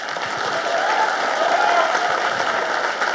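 An audience at a movie stunt artist association meeting applauds, a steady dense wash of clapping from a crowd that fills the whole moment at even loudness.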